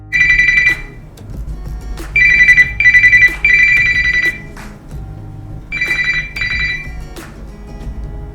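A Samsung Galaxy S20 phone in a clear view cover rings with an incoming-call ringtone, loud bright electronic bursts in uneven groups with short gaps, plus a few soft taps and handling sounds between them.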